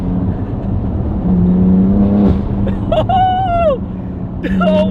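A BMW M3 engine with bolt-on mods and a muffled exhaust drones steadily, then revs up sharply a couple of times with rising and falling exhaust notes, close and loud.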